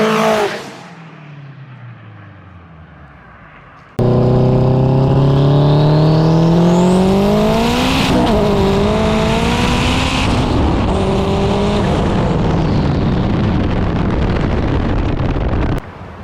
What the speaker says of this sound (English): So he's going to do a little flyby for us.